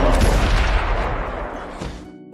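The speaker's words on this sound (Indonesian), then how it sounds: "Charlotte akhirnya menembakkan senjatanya" A rifle gunshot in a film scene, a loud boom or burst at the start that decays over about two seconds into a fading rumble, with no talk.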